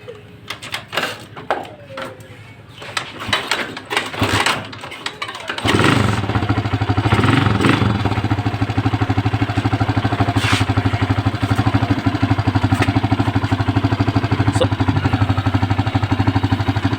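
A motorcycle has its battery under test. Sparse clicks and knocks come first, then the engine catches at once and settles into a steady, loud idle that carries on to the end.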